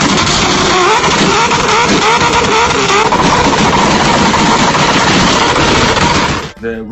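A Lexus IS300 sedan with a Toyota 2JZ inline-six engine runs loud and close, a harsh continuous roar with rapid rough pulsing throughout, cutting off abruptly near the end.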